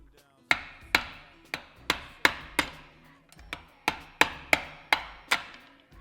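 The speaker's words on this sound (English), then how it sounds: "Time to bring in the hammer. Hopefully that brings it in straight" A hammer taps a spring into place on a manual press, about a dozen sharp metallic knocks in uneven pairs and runs, close and loud, each ringing briefly.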